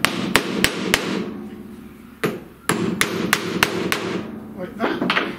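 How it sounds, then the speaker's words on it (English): Sharp hammer taps starting a screw into material before drilling, in a CNC router carving workshop; a loud irregular series of close metallic strikes with brief pauses and no talk. "Go in and start the screw with a hammer so the material doesn't wander when you start to drill it in."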